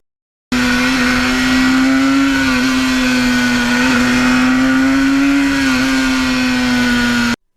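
A 1977 Yamaha RD400 two-stroke motorcycle engine holding a steady, loud, droning note at high throttle, close and continuous for about seven seconds with slight pitch wobble, no speech.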